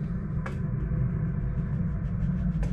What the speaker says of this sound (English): Apologies for the background noise, that's Leeds Bradford Airport.